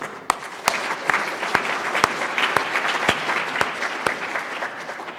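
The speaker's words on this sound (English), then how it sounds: "I want to thank you and give you a round of applause" An audience applauds steadily through a round of applause, dense clapping with a few louder sharp claps standing out, and no talking.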